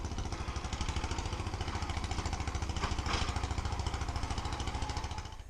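A Craftsman lawn mower, an old machine with a replaced connecting rod, runs loud and close with a steady, rapid chugging engine pulse that holds for several seconds before easing slightly at the end, with no talking.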